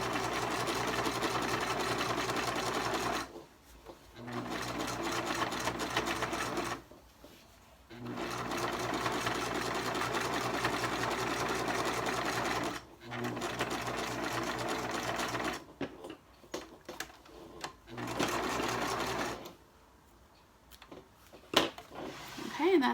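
A sewing machine stitches along the outer lining fabric of a fitted men's face mask in several bursts of steady mechanical whirring, broken by short pauses where the fabric is pivoted and turned.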